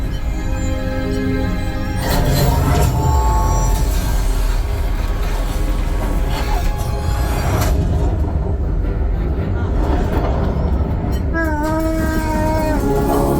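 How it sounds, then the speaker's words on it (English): A train rumbles loudly and continuously throughout on the Millennium Falcon: Smugglers Run ride at Walt Disney World, with a dense mechanical roar and scattered tonal whines and squeals layered on top. "There's the train."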